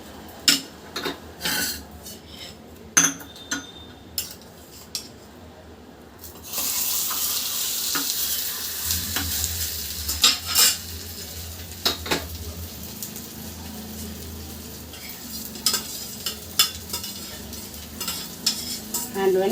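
Vegetable handvo, a savory batter cake, sizzles and fries in a pan and is turned with a spatula, giving scattered scraping clicks and then a steady, louder frying hiss.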